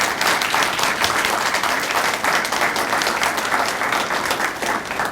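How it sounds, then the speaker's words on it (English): An audience applauds after a talk on Western democracy and the Middle East, a dense steady round of clapping from many hands that carries on for several seconds without letting up. "give these people a round of applause"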